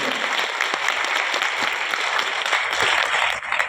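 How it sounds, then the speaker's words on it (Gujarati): An audience at a meeting applauds loudly and continuously, a dense wash of many hands clapping that holds steady and dips slightly only at the very end. "એકવાર કિરણભાઈ વાઘેલા માટે જોરદાર તાળી."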